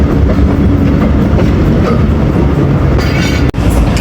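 Karachi Express passenger train running on rails between Multan and Lahore, a loud steady rumble with rhythmic clickety-clack of wheels over joints throughout, a brief dropout near the end, no talking.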